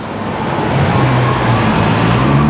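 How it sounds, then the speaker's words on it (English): City street traffic with New Jersey Transit buses along Montgomery Street in Jersey City, a steady, fairly loud engine rumble and road noise with no break. "Then you see the Jersey Transit buses."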